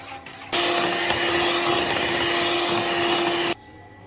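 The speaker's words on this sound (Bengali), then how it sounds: "এবার চিনি আর ডিমটা ভালো করে ফেটায় নিব" A steady, loud electric mixer whirs for about three seconds while sugar and eggs are beaten for cake batter, starting and stopping abruptly.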